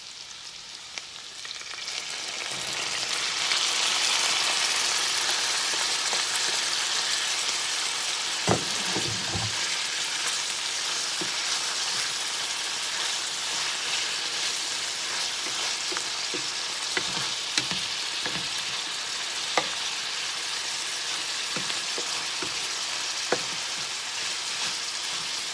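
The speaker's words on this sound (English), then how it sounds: "just kind of saute the onions and green beans together" Green beans and onions sauté in a pan over a little above medium heat, a broad steady sizzle that swells after a couple of seconds and keeps going, with scattered utensil clicks and taps and no talk.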